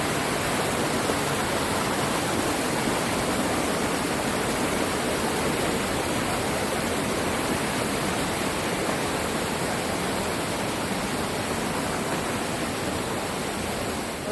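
The Chew Louie waterfall, heard from a bridge, pours out a steady, dense roar of falling water that runs unbroken and evenly loud throughout, with no voices.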